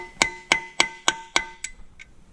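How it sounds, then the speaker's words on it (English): Seven sharp metallic strikes of a hammer on a center punch marking drill holes on a mini split condenser mounting bracket, evenly spaced and ringing, the last two lighter and fading. "I can center punch it"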